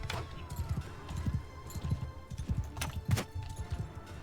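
Rhythmic hoofbeats of a galloping horse in the video game Bannerlord thud along steadily, fairly soft, with brief sharper knocks and clatter mixed in.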